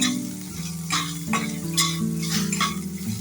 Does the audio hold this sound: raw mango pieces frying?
yes